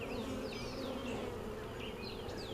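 Honey bees buzz densely on a brood frame of capped brood during a hive inspection. A steady close swarm hum runs throughout, with individual bees whining past, and no voices.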